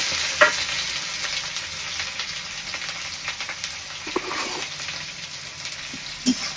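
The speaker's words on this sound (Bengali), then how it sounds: "পেঁয়াজ ভালো করে ভাজবো" Onions frying steadily in a pan for a chicken kosha, with a continuous close sizzle broken by a few sharp scrapes and clatters of stirring.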